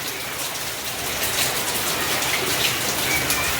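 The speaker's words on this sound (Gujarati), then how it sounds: "ટાઈમ વગરનો વરસાદ સિઝન વગરનો વરસાદ" Unseasonal heavy rain falls in the middle of summer, a steady, dense patter and hiss of drops striking surfaces close by, with no voices.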